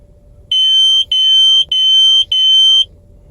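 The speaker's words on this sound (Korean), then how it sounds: "이게 50 이상이 되게 되면 이렇게 경보기 울리기 때문에 지금 농도 62에서도 계속 경고를 주는 겁니다." Portable carbon monoxide detector alarm inside a small winter camping tent, sounding four loud, piercing electronic beeps in a steady repeating pattern, close to the microphone, with faint background noise between.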